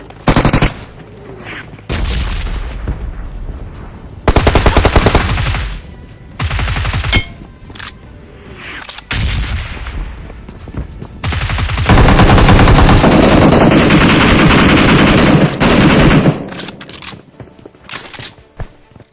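Automatic gunfire in a video game, with loud close bursts and rapid volleys separated by short quiet gaps, including a long sustained stretch of firing.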